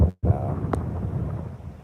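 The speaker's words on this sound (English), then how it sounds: "It's really, really sunny out here, and really, really windy." Strong wind buffets a microphone beside a lake on a sunny day, a steady low rumble with a brief dropout near the start and a short sharp gust midway.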